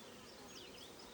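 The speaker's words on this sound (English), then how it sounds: "Sometimes there's bees under there." Honey bees buzz around an opened hive during an inspection, a close, continuous droning hum that stays steady and fairly loud throughout, with no voices.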